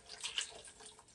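Wine poured into a stew pot for oxtail stew: a faint, steady splashing trickle of liquid, close and alone.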